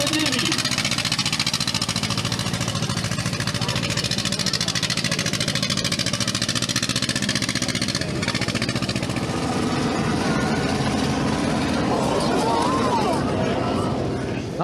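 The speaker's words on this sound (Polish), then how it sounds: "wyścigi traktorów. Niesamowite, posłuchajcie i zobaczcie." Tractor engines roaring at a tractor race in Poland, a loud continuous mechanical rumble with crowd noise mixed in throughout.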